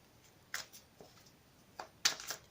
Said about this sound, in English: I'm going to shuffle them again for you quickly on camera